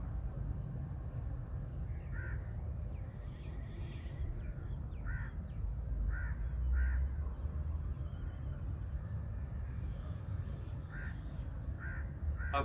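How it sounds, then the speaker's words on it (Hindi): Crows caw repeatedly at a distance outdoors, short calls spaced irregularly over a steady low rumble of wind or traffic, with a guided mindfulness speaker's voice nearby. "अपने आसपास परिंदों की आवाज़ों को सुनिए।"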